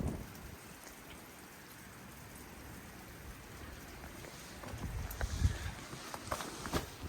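Rain falling on and around a tent during a wet night in Fiordland, a soft, continuous patter with scattered louder drops and taps growing denser toward the end.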